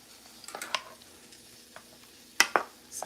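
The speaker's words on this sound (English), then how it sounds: "I'm gonna stir them up." Food being stirred in a sizzling pan gives a few faint scrapes and soft clinks, with two sharper spoon strikes near the end over a low frying hiss.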